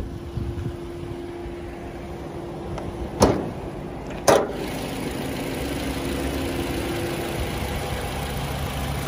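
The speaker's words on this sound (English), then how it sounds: "Very clean, very quiet engine" A 2018 Toyota RAV4 GXL AWD engine idles with the bonnet open, a steady, quiet hum with two brief sharp knocks partway through.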